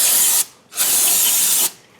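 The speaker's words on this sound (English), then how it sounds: "I'm going to spray brake cleaner again over here to clean it one last time." An aerosol can of brake cleaner sprays onto the flywheel of a rear-wheel-drive car during clutch replacement: two loud, steady hissing bursts, the second longer, separated by a brief pause.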